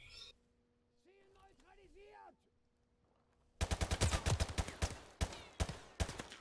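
A brief tonal voice-like sound gives way to a loud, rapid burst of gunfire in Call of Duty Remastered, shots cracking in quick succession, then a few more single shots.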